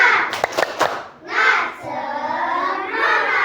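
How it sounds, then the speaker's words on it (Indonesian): A class of children does a rhythmic spirit clap, a quick burst of several sharp claps followed by a loud group shout and cheering that carries on to the end. "Oke, tepuk semangat."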